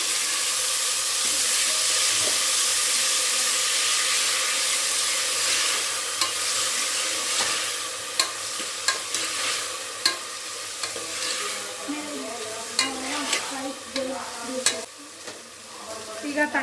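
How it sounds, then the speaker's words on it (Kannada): Cleaned, seeded turkey berries (sundekai) hit a hot pan for a traditional sambar, giving a loud, continuous close-up sizzle and hiss, with sharp clicks and scrapes of a spoon growing more frequent toward the end. "ಈಗ ಅದನ್ನು ಹಾಕ್ತಾಯಿದ್ದೀನಿ ಸುಂಡೆಕಾಯಿನ"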